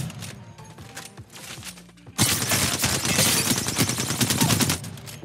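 Rapid automatic gunfire from Apex Legends weapons bursts out loud and continuous after a quieter stretch of scattered clatter, sustained dense firing to the end.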